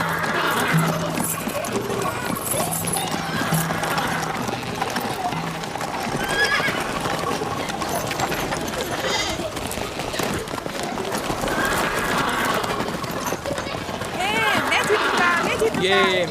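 A horse gallops with loud, rapid hoofbeats and neighs repeatedly, sharp whinnies rising above the pounding rhythm in a busy, dramatic scene.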